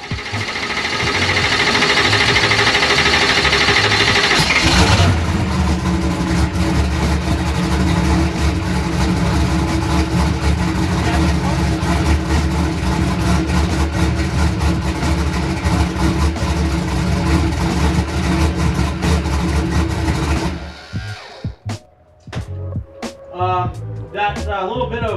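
A freshly rebuilt Hemi engine fires up and idles loud and close with a steady rough rumble for about twenty seconds, then shuts off, leaving a few clicks and clanks afterward.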